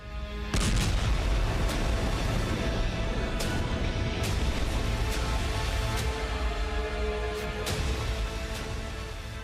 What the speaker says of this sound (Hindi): इसके कुछ ही सेकंड बाद रूस के युद्धपोत पर जबरदस्त धमाका होता है।